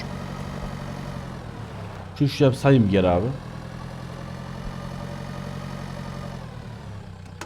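A tractor engine idles in Pure Farming 2018 during a potato harvest, a steady low rumble running through the whole clip, briefly overlapped by someone speaking.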